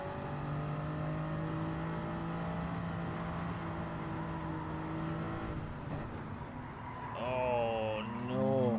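A race car engine in Gran Turismo 7, running on hard tyres, drones at a steady high pitch, then rises and falls in pitch as it shifts, a faint continuous whine with no clear talking.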